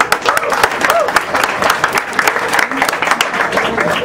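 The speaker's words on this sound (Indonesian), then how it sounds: "Maka mari kita berikan aplaus yang paling meriah untuk Munir." A stand-up comedy audience at a Munir memorial event breaks into loud, sustained applause, dense clapping running the whole time with a host's voice over it.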